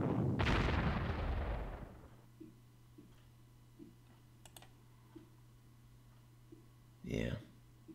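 A heavy explosion booms loudly at the start of a Panzer Corps strategy game bombing, followed by faint ticks and small thumps, then another muffled explosive burst near the end, with a steady low hum underneath.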